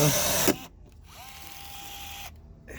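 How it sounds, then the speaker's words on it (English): Milwaukee battery-powered riveter setting stainless steel rivets on an RV slide-out: a loud burst at the start, then a short motor whine that rises and holds for about a second before cutting off, close by. "This is my Milwaukee riveter, and it's the best thing in the world."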